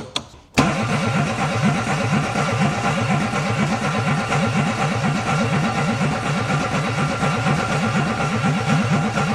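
A Renault Twingo engine catches after a brief starter crank, then runs loud and close with a rapid pulsing idle that rises and falls as the accelerator is pumped, no voices over it.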